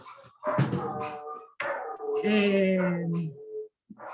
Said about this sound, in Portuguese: Ele não está preso, ele só está latindo aqui